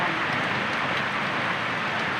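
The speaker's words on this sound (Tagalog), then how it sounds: "Ang lakas ng ulan." Heavy rain pours down as a dense, steady hiss with no breaks and no talking.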